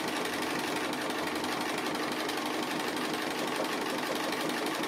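A sewing machine stitches a dog appliqué along a stitching line, a fast, even, continuous mechanical whir and needle patter, steady and close throughout with no talking.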